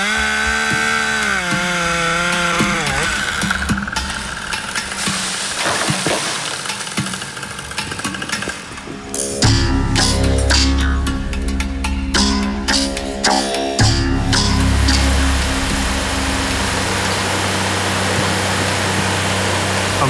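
A Husqvarna 572 XP chainsaw runs loud and close, with revving and idling shifts and then a sustained high-power cutting roar through wood.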